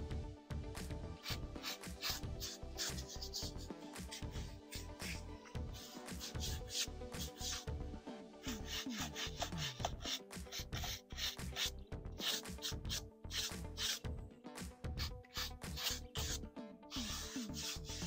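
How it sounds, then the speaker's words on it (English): Stiff bristle brush scrubbing an Alcantara-covered car steering wheel, a faint, close, continuous scratchy rubbing with quick repeated strokes throughout, no voices. "that's when you can get back in there with the stiff bristle brush, kind of bring them back to life"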